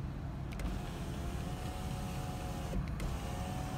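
Electric sunroof motor on a 2004 Chrysler Sebring LXI whirring steadily as the roof slides open, a continuous mechanical hum heard close inside the cabin with no talking.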